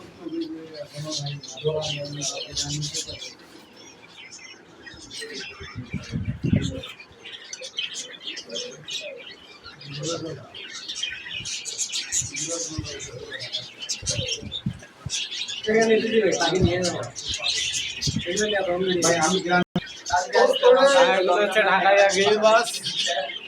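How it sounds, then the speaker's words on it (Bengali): Caged doves and other birds at a pigeon and bird shop chirp and call intermittently in the background, mostly under continuous loud talking. "এই যে এগুলো হচ্ছে আনিং ঘুঘু"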